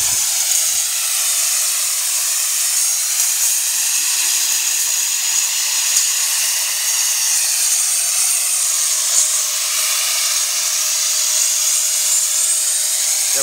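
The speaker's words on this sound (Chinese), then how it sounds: "完全是用太阳电来操作电锯" An 800-watt electric saw powered by four solar panels runs steadily with a continuous high-pitched whine and hiss that holds at an even level throughout, close and loud, without pauses.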